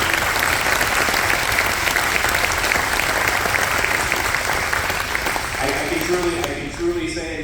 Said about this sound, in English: let's give them a round of applause for all of their support.